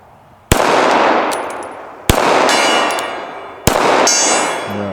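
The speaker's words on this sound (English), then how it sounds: "we got to hit the gong just to let him know we're here" Three loud gunshots strike a steel gong target at spaced intervals, each hit a sharp crack followed by a long, ringing metallic clang that decays slowly, no talk.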